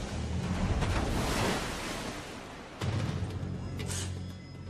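Artificial tsunami waves surge through a 104-metre concrete wave tank holding over a million litres of water, a steady broad rushing wash that swells and then renews with a fresh surge partway through.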